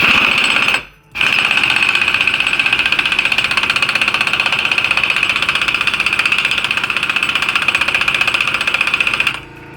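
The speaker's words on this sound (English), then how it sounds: "this air compressor probably needs to kick on" A shop air compressor in a garage, during a Chevrolet Venture transmission repair, drones loud and steady with a constant mechanical hum. A short gap comes near the start, then the running continues for most of the clip until it cuts off near the end.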